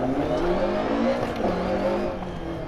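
A Lancia Evo 2 rally car engine in DiRT Rally roars loud and steady at high revs near the top of its gears, its pitch sweeping up and down through gear changes on a tarmac stage.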